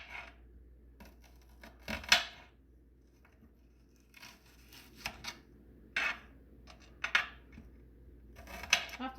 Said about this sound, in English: I'm chopping up my onion.